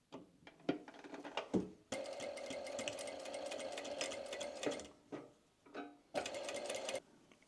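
A sewing machine stitches a seam in fabric, running in sustained loud whirring bursts broken by short pauses and a few clicks as the material is adjusted, close up with no talking.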